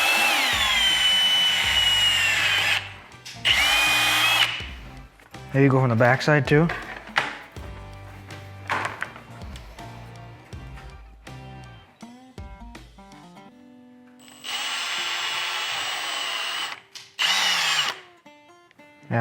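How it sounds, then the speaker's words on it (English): A power drill whines loudly in several bursts, starting and stopping as holes are drilled for splashguards on a 2021 Toyota 4Runner, with brief spoken remarks between the runs. "There are a couple of holes here that aren't fully drilled out, so we're gonna drill those out"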